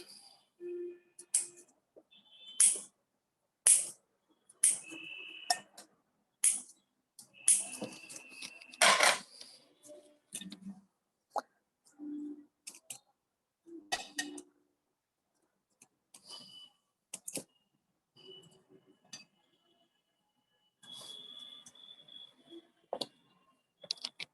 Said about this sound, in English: So the extra roots here again I will cut.